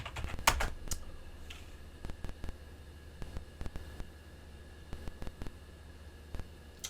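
Someone types a password on a computer keyboard, producing quick clusters of crisp key clicks with short pauses between them, close by against a quiet background hiss.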